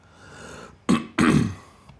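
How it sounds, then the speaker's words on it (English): A person clears their throat twice in quick succession, two close, loud, rough bursts after a quiet breathy lead-in, with no speech. "I have to keep clearing my throat."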